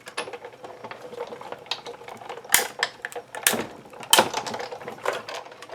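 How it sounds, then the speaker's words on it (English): A die cut machine cranking cardstock with washi tape through its rollers, giving an irregular run of mechanical clicks and ratcheting grinds with a few louder clunks, close by and with no talking. "And then we'll run this through our die cut machine."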